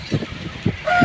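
A rooster for sale, a four-month-old kopperaja dega-colored bird, gives a few short low clucks close by, followed by a brief higher honking call at the end.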